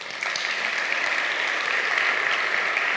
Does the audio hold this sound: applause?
yes